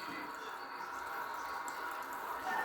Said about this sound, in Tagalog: Nagbubuga na ng tubig.